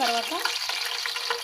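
Green chillies hit a hot pan for an Andhra-style fish curry and fry with a close, steady crackling sizzle and some stirring, while a voice speaks briefly over it.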